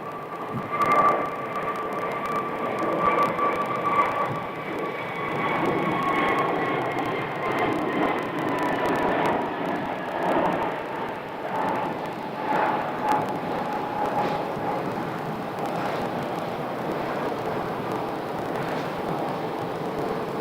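A Frontier airliner rolls for takeoff at Phoenix Sky Harbor, a steady distant jet roar with slowly drifting engine whine that holds for the whole stretch.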